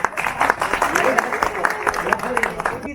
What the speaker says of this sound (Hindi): जरा ग्रुप के लिए जोरदार ताली बजा दीजिए भाई।